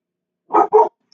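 Two quick, loud barks from a dog indoors, close by and clear against silence.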